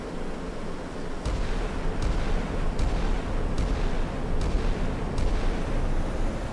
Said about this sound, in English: that's an explosion in the distance